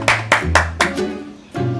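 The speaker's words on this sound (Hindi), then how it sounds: "मम्मी जी, दोबारा से ताली बजाना।" Four sharp hand claps in quick, slightly uneven succession, with a steady hum and a voice-like tone running underneath.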